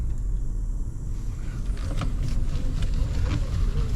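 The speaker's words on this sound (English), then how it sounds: "when you're reversing out of the parking spot like this, you're gonna cut your wheel" Car engine idling low and steady while backing slowly out of a parking spot at a shopping mall, a continuous close rumble with faint mechanical ticks and no talking.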